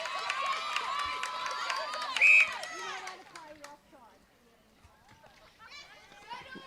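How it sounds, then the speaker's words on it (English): A netball crowd at an A Grade semi final in a recreation venue, cheering and clapping in a loud burst that fades into scattered shouts and squeaky court noise, with commentators talking over it. "Crowd's very loud here."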